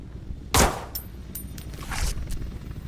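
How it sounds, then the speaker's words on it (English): One sharp gunshot rings out in the shooter game America's Army, a loud single crack with a brief metallic tail, followed by faint clanks and scrapes in a quiet background. "I'm gonna shoot once in the head."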